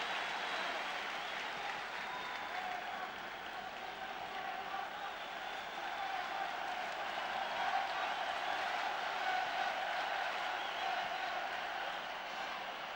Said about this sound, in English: Crowd trying to get into it for Greece